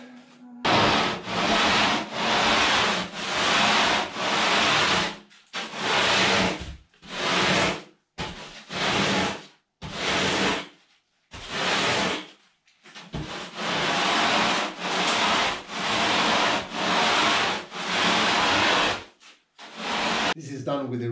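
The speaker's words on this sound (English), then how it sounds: "This is done with a really coarse sandpaper" Coarse, heavy sandpaper rasping in long strokes across a foam windsurf board being shaped, a loud hissing scrub that starts and stops in repeated passes of varying length.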